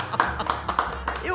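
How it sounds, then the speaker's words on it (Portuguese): Rhythmic handclaps from a small audience at the end of a talk for seniors, a few sharp claps spaced roughly a third of a second apart, mixed with people talking over them. "É de pé a aplaudir, não é?"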